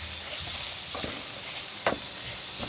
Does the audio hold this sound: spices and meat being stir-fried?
yes